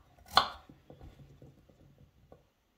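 Knife chopping potatoes into pieces for a potato and béchamel cake: one sharp cut up front, then a string of soft, quick taps on a board, close and fairly quiet.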